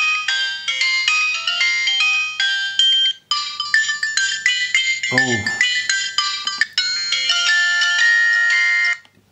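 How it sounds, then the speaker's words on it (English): An Alcatel 10.66 mobile phone plays a bright electronic ringtone, a rapid plinking melody in repeating phrases, loud and close, with a short exclaimed word partway through. "Piercing and horrible ringtones."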